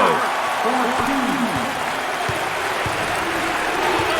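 A basketball video game crowd (NCAA March Madness 08) roars and cheers continuously in a large arena, a steady wash of noise with a commentator's voice talking over it.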